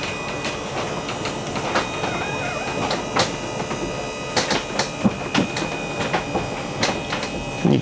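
Full-wall slide room on a 2022 Newmar Dutch Star 40-foot motorhome moving along the driver's side, a continuous mechanical hum with scattered clicks and knocks, fairly close and without talk.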